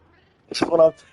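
A short, close meow from a cat in the survival video game Ark Survival Ascended, one brief rising-then-falling cry in a quiet moment.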